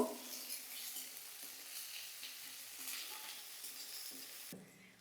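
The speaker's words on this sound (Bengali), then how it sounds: "পেঁয়াজটা ভালো করে ভেজে নেব" Onions fry with a steady sizzle in a pan, with occasional soft stirring scrapes and taps, fairly quiet and close.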